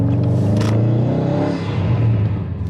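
A Subaru STI fitted with a new twin clutch kit accelerates around the block, its engine giving a loud, steady, deep rumbling roar that climbs slightly, heard close from inside the car.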